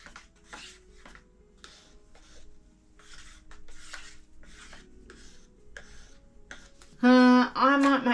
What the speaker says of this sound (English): Stir that again.